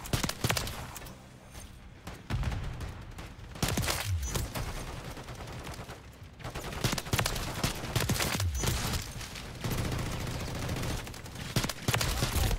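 Teammates firing guns in Modern Warfare 3, rapid repeated shots and bursts across the whole stretch, fairly close and punchy, with a few brief lulls between volleys.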